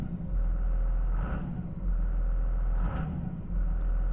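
A 24V Cummins diesel truck engine, just fitted with a new throttle position sensor, idles with a low, steady rumble close by, with two brief swells in pitch as it settles after starting; no one speaks.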